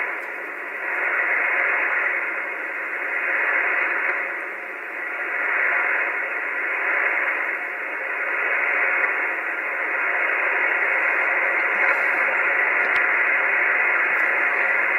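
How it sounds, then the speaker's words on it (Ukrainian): A receiver connected to a tuned magnetic loop antenna gives off steady hiss-like radio noise. The noise swells and eases in slow waves, then holds at a fairly even, moderate level with no voices. "Настроєний рівень шуму. Чуєте, як зростає?"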